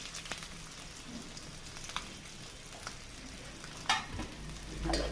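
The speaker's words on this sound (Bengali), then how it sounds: "একটু ভেজে নেব।" Chopped onions and chillies fry in a pan at the start of a fish bhuna, making a continuous close sizzle broken by a few sharp pops and clatters of stirring, with a louder scrape near the end.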